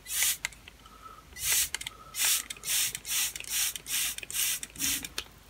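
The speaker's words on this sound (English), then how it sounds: "it is time to give this guy a good spray" A handheld spray bottle mists a moth cocoon in a run of about ten short, sharp hissing bursts, close and evenly spaced, with quiet gaps between them.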